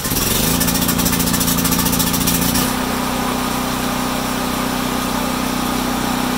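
Running on half choke, a DuroMax XP5500EH portable generator engine keeps up a loud, steady close drone, its pitch and tone shifting slightly partway through as the engine settles, with no talking.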